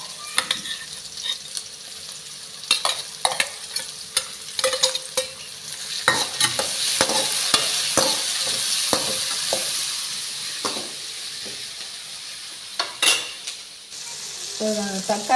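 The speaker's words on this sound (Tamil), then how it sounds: "வெங்காயம் வதங்கிடுச்சு அதோட கொஞ்சம் தக்காளி சேர்த்துக்கலாம்" Onions and tomatoes sauté in a pan with a steady sizzle, punctuated by frequent scraping stirs of a utensil against the pan and occasional clinks, fairly close and with no one talking.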